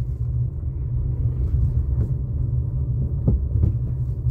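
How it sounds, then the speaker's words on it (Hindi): Car engine pulling away in second gear on a single-lane highway without dividers, a steady low rumble and throb running continuously and fairly loud, with a couple of brief knocks near the end. "सेकंड गियर पे अपनी गाड़ी ऐसे उठाते हैं"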